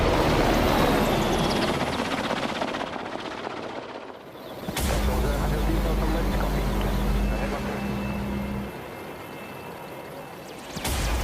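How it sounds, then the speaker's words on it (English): Helicopter rotor thudding over a roaring outdoor wash with chatter at an air festival display, a strong low steady drone swelling in the middle before fading. "So let's have a look now at some helicopter skills."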